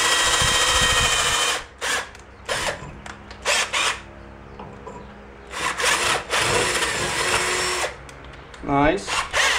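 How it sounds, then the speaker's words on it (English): A power drill with a dull bit whirs in bursts as it bores into wood on a 1962 Chevy Grumman, stopping and starting repeatedly, with a person talking in the pauses. "Dull drill bit."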